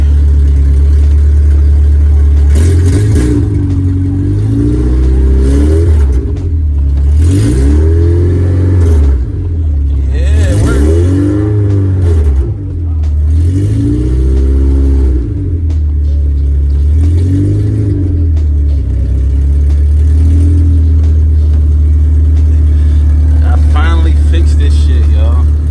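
Honda DC2 with a swapped K24 engine driving with the sunroof open, its loud engine drone rising and falling in repeated arcs as it revs up and shifts through gears, steady and close throughout.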